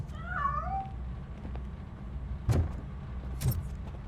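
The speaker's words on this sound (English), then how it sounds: "That cat must be hiding inside." A cat meows in RoboCop: Rogue City, one short rising-and-falling mew near the start, followed by two soft thumps and faint rattles as it escapes, over a steady low background hum.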